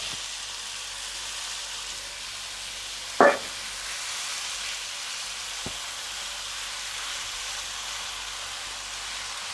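Chopped tomatoes and chives sauté in oil in a pan for Chinese scrambled eggs and tomatoes, making a continuous soft hissing sizzle with one brief knock of a utensil partway through.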